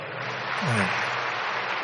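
An audience at a spiritual talk in a meditation hall claps steadily, a dense, even wash of applause from many hands that carries on for the length of the moment.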